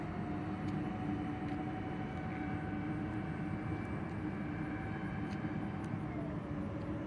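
A radio-controlled Supreme Hobbies Airbus model airplane flies overhead with a steady, unbroken motor roar and a faint high whine that holds through the whole stretch.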